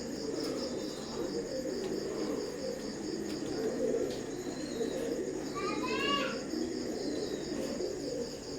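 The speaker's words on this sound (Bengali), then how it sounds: "তো ভিউয়ার্স, স্ক্রিনে এখন যে কবুতর জোড়া দেখতে পাচ্ছেন, এটাও 128-এর এক জোড়া নিউ অ্যাডাল কবুতর।" A pair of imported Teddy pigeons of Oman bloodline coo softly in a low, throaty murmur against steady insect chirring, with a brief twittering bird call breaking in near the end.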